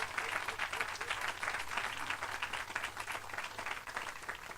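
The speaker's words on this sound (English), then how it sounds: "Let's give everyone a round of applause." Audience applause at the closing plenary of a clean and fair economy summit in Washington, a steady dense wash of many hands clapping that holds at full strength throughout without any voices over it.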